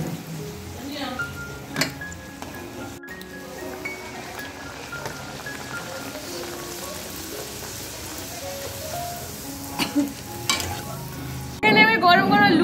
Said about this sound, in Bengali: এই যে লুচি হচ্ছে, এই গরম গরম লুচি খেতে কিন্তু আমার বেশ লাগে